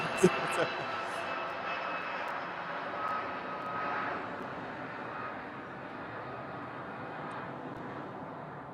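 A fixed-wing airliner departing East Midlands Airport in the evening, a broad steady engine roar heard from a distance that swells gently and holds throughout, with faint ambient noise around it.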